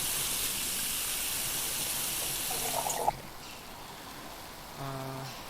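Water from a kitchen tap in Cooking Simulator runs in a loud steady hissing stream for about three seconds, then cuts off, followed by a short tonal chime a moment later.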